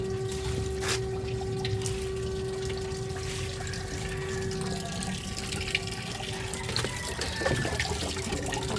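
Water runs steadily from a tap or hose while plants are watered, a continuous broadband trickle and splash at moderate loudness with faint background tones, no speech.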